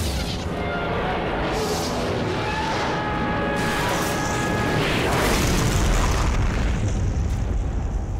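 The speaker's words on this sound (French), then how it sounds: "Grenade aveuglante." A deep flash grenade boom bursts out amid dense, loud battle noise in the video game Company of Heroes, with rumbling low blasts and mechanical clatter continuing throughout.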